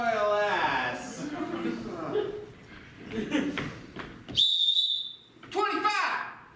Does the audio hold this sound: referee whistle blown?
yes